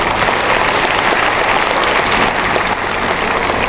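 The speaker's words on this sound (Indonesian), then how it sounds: "Kita berikan tepuk tangan buat Bapak Rosan Roslani." A crowd applauds Bapak Rosan Roslani at an Indonesian housing-loan event, loud, dense and continuous clapping from start to finish with no voices over it.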